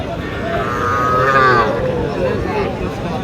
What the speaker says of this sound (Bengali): এটা খুব সুন্দর আকারের একটি গরু সায়ল জাতের